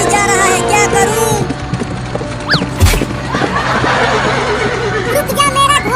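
Cartoon horse neighs and whinnies amid clip-clopping hooves and busy comic sound effects and music, loud and close, with a voice talking over it.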